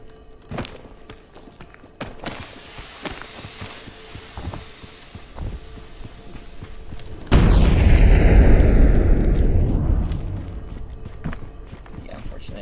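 Bombs going off in a solo mountain-peak video game stage with scorpions around, a sudden loud rumbling blast that swells and lingers for a few seconds amid softer footsteps and thuds.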